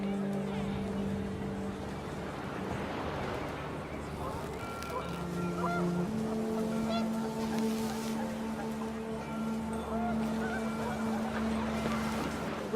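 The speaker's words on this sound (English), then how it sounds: "The wind picked up and panicked geese appeared and quickly went." Geese honk in the video game What Remains of Edith Finch, a cluster of calls over steady wind and ambient game sound with tonal music lines, continuing through the span at moderate level.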